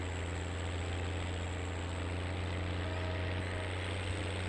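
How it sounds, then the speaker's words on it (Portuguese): A helicopter flies overhead in Farming Simulator 22, heard as a steady, droning engine and rotor hum that holds evenly throughout at moderate loudness. "O helicóptero ali, ó."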